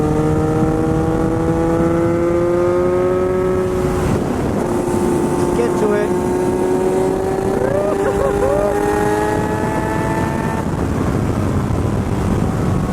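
A 2019 Kawasaki Z900 motorcycle ridden along an open road, heard as a steady engine drone rising and falling through gear changes under heavy wind noise, while the rider speaks briefly.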